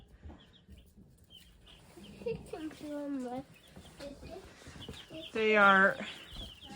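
Backyard chickens cluck softly and irregularly, with a couple of louder drawn-out calls, mixed with brief speech nearby.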